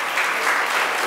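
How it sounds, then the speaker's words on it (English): An audience at a business summit panel applauds loudly and continuously, the clapping close and dense with no voices over it. "Let's start with a round of applause."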